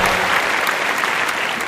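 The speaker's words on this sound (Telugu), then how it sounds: "ఈ కాన్సెప్ట్ కి ఈ పాట చూస్ చేసుకున్నందుకు క్లాప్స్." An audience at a televised Telugu game show applauds after a song, a dense, steady burst of clapping from a crowd that fills the whole stretch without letting up.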